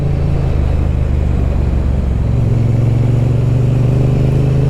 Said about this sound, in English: Yeah, really powerful and torquey engine.